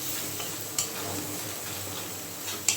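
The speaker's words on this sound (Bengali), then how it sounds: "আমি প্রায় 8 থেকে 10 মিনিটের মতো মশলাটা খুব ভালোভাবে কষিয়ে নিয়েছি।" Spice paste sautéing in a pan for a vegetarian cabbage dish, a soft steady sizzle with two sharp clinks of a utensil against the pan, quiet and close.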